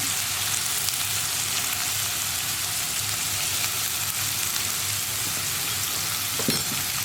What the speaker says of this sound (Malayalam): മഞ്ഞൾപ്പൊടി ചേർത്തിട്ട് നന്നായിട്ട് വഴറ്റിയെടുക്കുക.